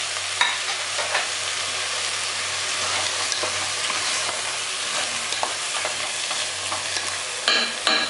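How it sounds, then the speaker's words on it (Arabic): Tomato juice poured into a hot pan for a braise of cow's trotters, stirred with a steady sizzle and frying crackle that runs close and continuous, with scraping spoon strokes and a brief louder burst near the end. "بعد كده هروح نازلة بالطماطم. زي كوباية كده من عصير الطماطم."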